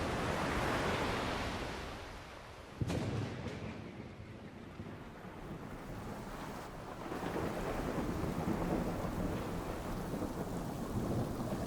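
Heavy rain pours steadily on a house during a stormy night by the sea, with a sharp thunder crack about three seconds in and a dense, continuous roar of rainfall throughout, loud and close with no voices.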